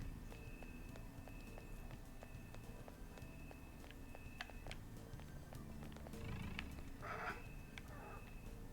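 Cats in the Persona 5 Royal video game, heard as soft purring and light padding steps over a steady game background hum, with a brief louder burst of activity near the end and no talk.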